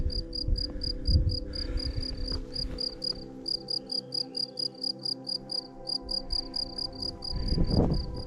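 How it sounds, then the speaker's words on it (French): Crickets chirp in a steady, rapid pulsing rhythm, loud and close, outdoors around Viviès, France, with brief rustling and handling noises at the start and end. "Les grillons"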